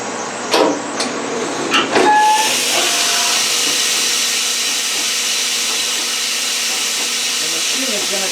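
A Fadal CNC machine starts its program with a few sharp knocks and clicks, then settles into a steady, loud hiss-like whir that carries on evenly, with a couple of faint tones near the start.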